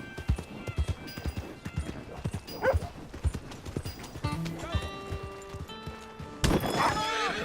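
A horse neighs and whinnies with clip-clopping hooves in the Red Dead Redemption 2 video game, amid busy in-game ambience with music-like tones; a loud, close whinny lands near the end.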